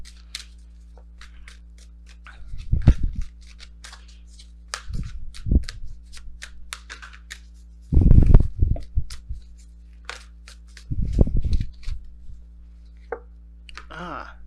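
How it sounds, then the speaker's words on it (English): Oracle cards being handled and shuffled during a tarot reading, heard as several short papery riffling bursts separated by pauses, fairly close, with a faint hum underneath. "It's been a second since I pulled these cards."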